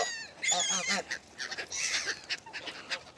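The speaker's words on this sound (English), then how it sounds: "Get ready for these geese." Several geese honk close by at a lodge pond, with a cluster of loud nasal calls followed by quieter scattered honks and rustling.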